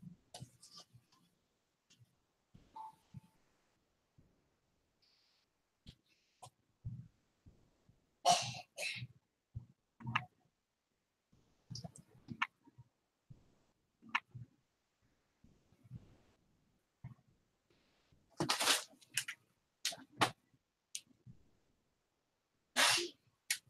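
Several sharp sneezes burst out at home, two especially loud ones mid-way and near the end, among softer coughs, sniffs and breaths, with quiet gaps between.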